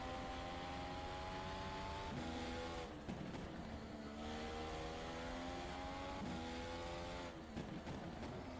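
An open-wheel racing car engine in the rFactor 2 video game at Zandvoort whines steadily at high revs, pitch shifting up and down with gear changes, loud and continuous with no voices.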